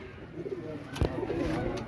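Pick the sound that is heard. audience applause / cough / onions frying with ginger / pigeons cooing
pigeons cooing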